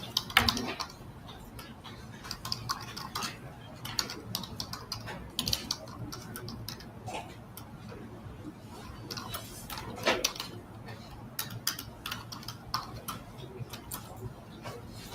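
Keyboard typing in a courtroom setting, with irregular bursts of faint clicking and tapping over a quiet room hum and occasional soft background voices.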